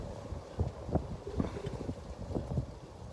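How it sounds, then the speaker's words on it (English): Gusty wind buffets the microphone outdoors in uneven rumbling bursts, with low thumps and scraping noises scattered throughout. "Why does it get windy as soon as I come outside?"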